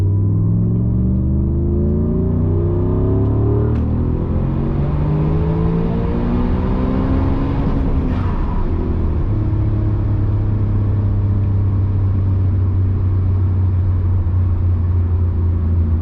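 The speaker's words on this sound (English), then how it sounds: "So this is full throttle." An Audi RS4 fitted with a rear-mounted turbo runs at full throttle, a loud continuous engine roar climbing steadily in pitch, then a brief burst of noise before it settles into a steady lower drone.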